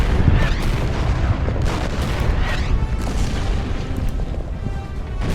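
Artillery fire in the World War II strategy game Order of Battle, Burma campaign, a run of heavy booming blasts and rumbling impacts that overlap in a continuous loud barrage.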